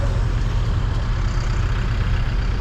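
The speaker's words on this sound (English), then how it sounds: "There's another trailer coming too, Mike" Heavy truck pulling a trailer arriving at a dusty road construction site, a steady low diesel engine rumble close by and constant for a few seconds, with no talk.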